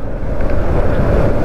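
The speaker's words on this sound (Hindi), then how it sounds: "हालांकि ठंडा हवा चल रहा है ज़रूर" A cold wind gusts steadily and loudly across the microphone outdoors along a busy road, a continuous dense rumble with no voices.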